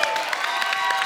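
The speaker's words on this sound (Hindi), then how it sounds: "जोरदार तालियां एक बार" A studio audience at a comedy show claps steadily in a brief, dense burst of applause with faint crowd noise mixed in.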